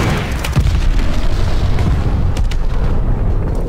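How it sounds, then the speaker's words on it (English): Glide bomb blast in the shooter Call of Duty: Vanguard, a loud sustained rumbling boom with a sharp crack near the start and more hits later, dense battlefield noise throughout with no talk. "Enemy's got a glide bomb incoming."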